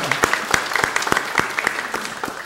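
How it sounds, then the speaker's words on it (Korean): Applause from a church congregation: many hands clapping together in a steady, dense wash of claps that fills the room and keeps going without a break. "우리 박수로 영광 돌리십시다"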